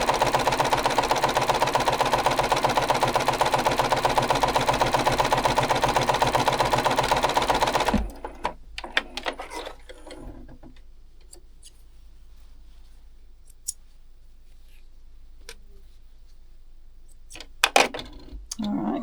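A sewing machine stitches quilt block sections in a fast, steady, close whir for several seconds, then stops, leaving faint handling clicks and rustles.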